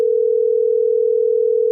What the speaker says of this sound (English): I can try ringing her on her phone or Discord.